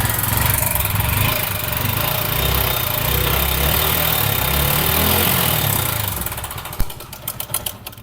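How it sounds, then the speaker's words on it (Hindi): A TVS Apache RTR 160 4V motorcycle engine idling with a heavy tappet clatter, a steady close mechanical rattle and rumble for about six seconds, then fading into irregular knocks and clicks. "इंजन से किस तरह से कटकटाहट का काफी ज्यादा इंजन से नोज आ रहा है"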